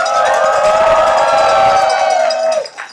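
A rally crowd cheers and applauds, a loud, dense roar with shrill whoops that holds steady for a few seconds and then drops away at the end.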